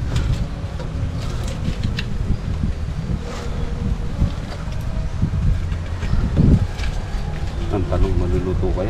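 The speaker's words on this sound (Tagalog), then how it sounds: "Lakas na ng hangin eh" Strong wind blows outdoors beside an open fire, making a steady low rumble and buffeting the microphone while people talk over it.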